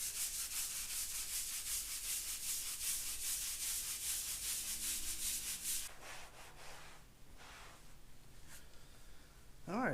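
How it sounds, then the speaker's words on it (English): Floor absorbent is scrubbed into a floor with a stiff wheel well brush, making loud, fast, rhythmic bristle scrubbing up close for several seconds before it eases off into lighter, scattered brushing. "I've just got one of these wheel well brushes. I'm just going to go ahead and scrub this stuff in."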